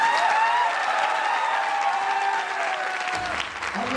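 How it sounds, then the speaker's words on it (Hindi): A business growth seminar audience claps continuously, with the applause layered under a prominent voice or tonal sound, before easing off near the end. "थोड़ी ताली अच्छी बजा दो।"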